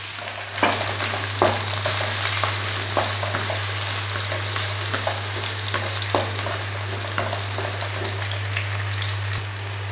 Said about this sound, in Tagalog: Ilagay na natin ang garlic at sibuyas.